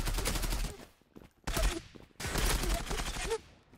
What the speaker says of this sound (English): They're shooting to me from the middle.